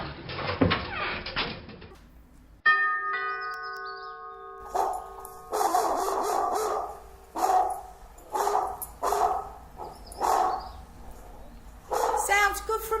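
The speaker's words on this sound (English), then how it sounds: "the dog sounds like it's by the door" An electronic dog-barking deterrent sounds behind a front door after the doorbell rings, with a chime-like tone followed by repeated bursts of barking in an irregular rhythm, and people talk around it.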